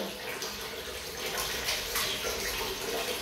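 Water splashes and pours continuously as a small child plays with it before a bath, a close, busy sloshing with no voices.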